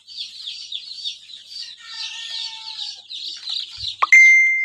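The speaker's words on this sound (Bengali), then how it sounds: "সব মুরগির বাচ্চা বের হয়ে গেছে।" Newly hatched chicken chicks peep in a dense, continuous high chorus close by, followed by a brief clatter and a sharp, sustained tone at the end.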